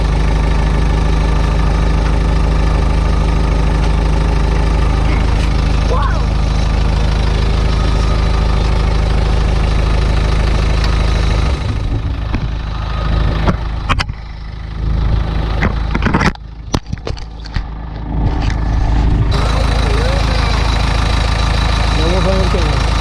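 An Isuzu 4BD1T diesel engine in an NPR truck idles steadily and loudly after a cold start, with a low knocking rumble. The idle dips briefly midway, and people talk nearby.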